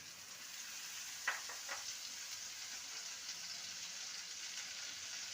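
Tomato paste going into ginger and garlic frying in a pan for a curry, a steady oil sizzle with a brief hissing burst as it lands, then continuing low frying hiss with faint stirring.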